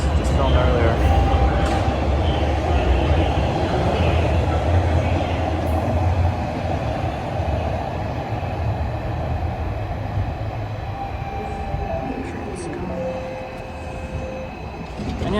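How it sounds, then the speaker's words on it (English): A southbound TTC subway train pulls out of Highway 407 Station, a loud, steady rumble and roar of wheels and motors that fades slightly as it departs, with a faint voice briefly under the noise. "the southbound train is heading out"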